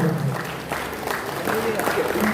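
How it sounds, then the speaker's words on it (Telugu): A crowd at a Telugu community get-together breaks into applause during a felicitation, a steady patter of clapping mixed with talking voices. "అందరూ చప్పట్లు"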